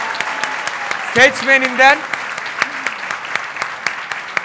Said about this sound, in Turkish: Belediye başkanı alkış alıyor